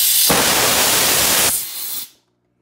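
Compressed air hisses loudly out of a small Harbor Freight air compressor tank through a drain line, a steady broadband rush for about two seconds that drops slightly in strength before cutting off.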